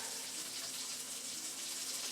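Beef broth pours into a skillet in a steady, even stream for a couple of seconds, a soft continuous splashing gush with no talking.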